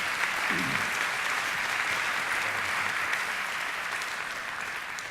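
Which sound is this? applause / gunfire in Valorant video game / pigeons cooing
applause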